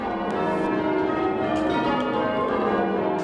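Church bells ringing in the Christchurch bell chamber at North Shields, heard as a dense, continuous wash of overlapping tones sustained at loud volume.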